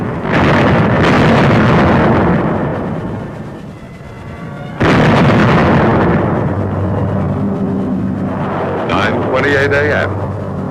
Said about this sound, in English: camouflaged 105 howitzers on gun carriages opened up with a bombardment of